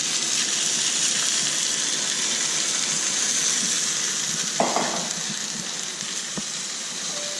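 Chicken potstickers fry in hot oil in a cast iron pan, giving a steady, close, even sizzle throughout with a brief louder crackle partway through and a small knock near the end.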